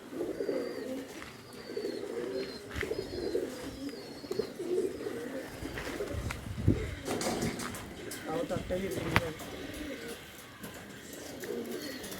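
Pigeons coo softly at a loft while a young bird drops down from a height to land. A few thumps and wing sounds come through under a man's near-constant talk.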